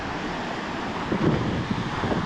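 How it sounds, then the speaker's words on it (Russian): Strong wind over the Caspian Sea at a sailing festival roars steadily across the microphone, a broad rushing buffet that gusts harder partway through, with no voices. "ветер вообще усилился конкретно"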